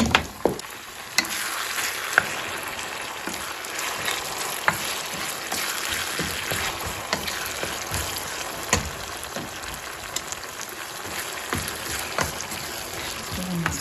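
Karnıgara stew being stirred in a pot over a steady, close bubbling sizzle, with scraping stir strokes and occasional clinks throughout and no talking.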